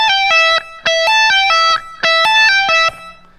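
Distorted electric guitar plays a fast lick without a slide, three loud bursts of rapid sixteenth-note notes with brief gaps between them, ending in a fading sustain.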